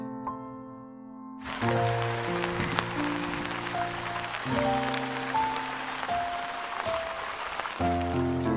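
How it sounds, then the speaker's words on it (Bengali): Steady heavy rain hisses down at Nishat Bagh in Kashmir, beginning abruptly after a quiet musical opening, with sustained music notes continuing over the downpour. "আর হঠাৎ করে তুমুল বেগে বৃষ্টি শুরু হলো"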